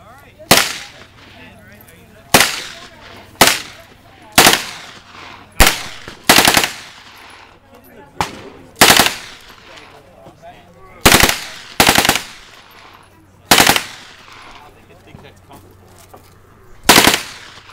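Live-round gunfire at an NRA youth shooting day outdoors: about a dozen sharp, loud single shots spaced irregularly a second or two apart, each with a brief echoing tail, with no speech between them.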